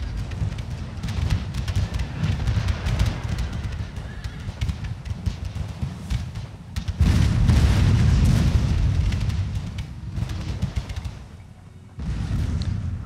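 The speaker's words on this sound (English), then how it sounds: "Try to fire some grape shot on them." Cannons fire grape shot during a Napoleonic-era France versus Ottoman Empire video game battle, heavy booming blasts layered over a continuous din of combat, with loud surges and brief lulls, no talking.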